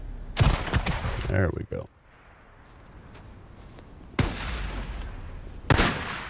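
Shotgun fire in the zombie survival game Days Gone: a few loud, sharp blasts spaced seconds apart, with someone talking between them.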